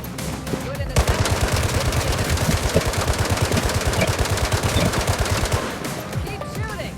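Rapid automatic gunfire in the mobile video game Gangstar Miami, a loud, dense, continuous stream of shots that fades out toward the end.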